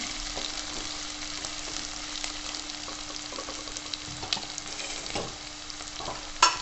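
Spices being stirred into golden fried onions in a pan for aloo methi, a steady low sizzle with scraping stir strokes throughout, close and moderately loud, no talking.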